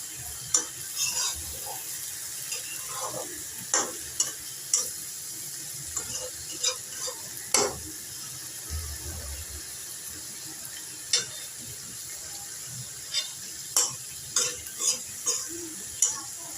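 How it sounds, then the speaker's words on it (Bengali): A steady sizzle of eggplant, okra and tomato frying in a pan, with frequent sharp scrapes and clinks of a spatula stirring, close up. "এখানে তরকারিগুলো বেগুন, ঢেঁড়স, টমেটো দিয়ে ভালো মতো কষিয়ে নিচ্ছি।"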